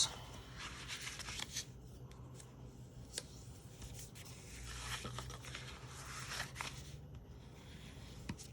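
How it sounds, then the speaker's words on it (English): A bone folder burnishes score marks on papercraft stock for a treat box, making soft, close rubbing and scraping strokes in short repeated passes at low volume. "I'm going to burnish on all of these score marks."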